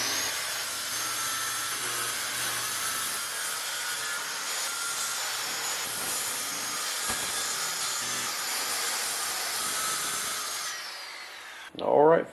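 A power saw cuts through wood from a 100-year-old farmhouse door, a loud, steady broadband whine running continuously for about eleven seconds before winding down, followed by a brief low clunk at the end.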